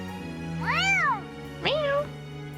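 A character in the Fire Emblem: Three Houses video game meowing like a cat in a human voice, two drawn-out, rising-then-falling meows close up over a low steady background hum.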